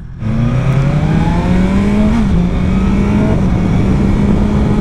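A 2021 BMW S1000XR motorcycle accelerates hard, its engine pitch climbing steadily, breaking off with a quick upshift and then rising again, loud and close over constant wind rush.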